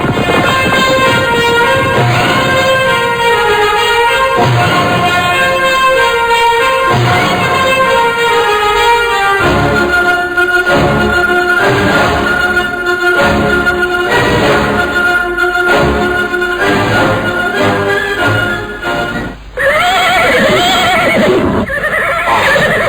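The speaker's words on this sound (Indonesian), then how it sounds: "Lihat, ada orang-orang berkuda menuju kemari." Horses with riders approach in a radio drama sound effect, loud and continuous: repeated whinnies and neighs ring over clip-clopping hooves, with a brief dip near the end before the neighing returns.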